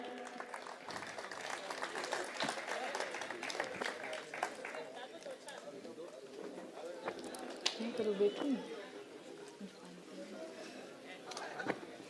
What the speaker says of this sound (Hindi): आप एक बार जोरदार तालियां बजाएं।